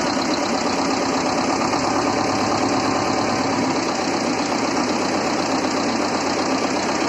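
A T-25 tractor's diesel engine runs steadily after a fuel injector nozzle replacement, a loud close knocking chug with an even rhythm throughout and no talking.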